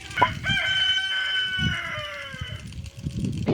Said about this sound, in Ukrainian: плюс ось там поруч кури